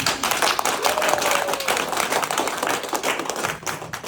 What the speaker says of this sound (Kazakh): Әрқайсыларыңыз өздеріңіз үшін бір қол шапалақтап қойыңыздаршы